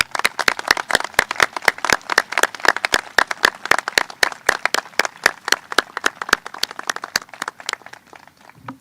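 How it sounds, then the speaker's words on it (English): New citizens and guests at a naturalization ceremony on a historic Lexington battle site applaud, a sparse, crisp run of individual claps from a modest crowd, steady for several seconds before fading out. "Please give yourselves and each other a round of applause."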